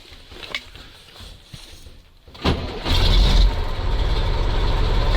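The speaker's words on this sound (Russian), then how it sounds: "дай-ка я заведу еще раз его" An old MAZ truck engine, stored fifteen years at a military base, cranks with a few clicks and grinding turns, then catches and roars into a loud, steady low idle.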